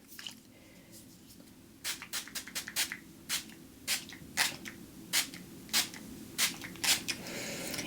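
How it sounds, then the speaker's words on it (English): A series of short, crisp spray bursts from a pump bottle of Essence Fix and Last makeup setting spray, about a dozen puffs in a steady rhythm, up close in a quiet room. "this is the Essence Fix and Last 18-hour makeup fixing spray"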